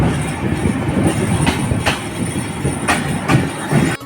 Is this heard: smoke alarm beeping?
no